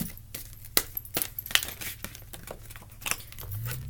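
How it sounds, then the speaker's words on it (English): Tarot cards being shuffled by hand during a reading, a series of crisp riffling snaps and flicks in an irregular rhythm, close and fairly quiet, with no talking. "One more shuffle and then I'm going to pick."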